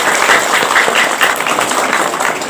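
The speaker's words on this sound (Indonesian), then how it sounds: "Tepuk tangan dulu dong untuk panitianya luar biasa." A crowd at an Indonesian religious gathering applauds the organizing committee, a dense, steady clatter of many hands clapping together for a few seconds.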